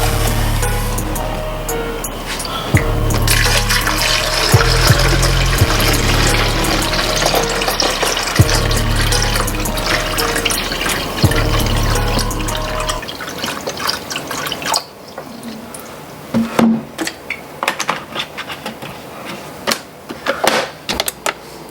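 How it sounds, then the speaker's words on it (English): Purified water is poured from a container into a coffee pot in a home kitchen, a continuous splashing pour for about thirteen seconds, followed by scattered clinks, taps and drips. "I put purified water in my coffee pot"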